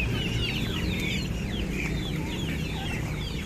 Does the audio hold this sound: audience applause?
no